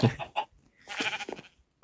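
Short, nasal bleats from a sheep in Minecraft, a few quick calls in a row, close and clear with brief pauses between.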